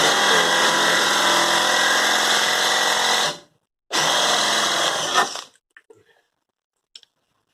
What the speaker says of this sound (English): I saved these particular old set of drill bits just for drilling through metal